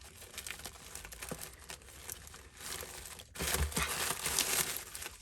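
Tissue paper crinkling and rustling as a gift package is opened, close-up irregular crackles and crumples that swell louder in the second half.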